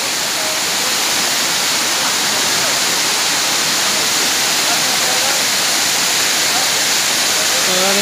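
Steady, dense rush of a waterfall over deep water in Zamboanga City, loud and continuous with no pauses, a broad hiss of falling water filling the whole scene.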